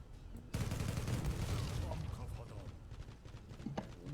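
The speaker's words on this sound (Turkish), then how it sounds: "Bir 30 mermi sıkıp adam öldürdüm az önce" Gunfire in the online shooter Zula erupts suddenly after a quiet moment, a dense burst of rapid shots that rolls on loudly before tapering into scattered reports and background noise.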